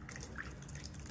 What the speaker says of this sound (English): Measure out 4 cups of white vinegar and pour it into the plastic tub.